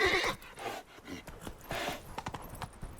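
Geralt's horse Roach in The Witcher 3 gives a loud whinny, then hooves clip-clop at a trot in a steady rhythm, close and clear.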